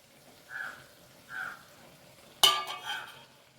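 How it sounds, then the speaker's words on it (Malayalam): A pot of fried-chicken biryani is stirred after garam masala, coriander and mint leaves are added. A couple of soft, faint scrapes are followed by one sharp metallic clank and another quiet scrape. "കുറച്ച് മല്ലിയിലയും പുതിനയിലയും കൂടി ഇട്ടിട്ട് ഇളക്കി കൊടുക്കാം കേട്ടോ"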